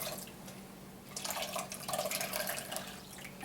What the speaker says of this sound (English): we're going to do our initial strain and pour it all in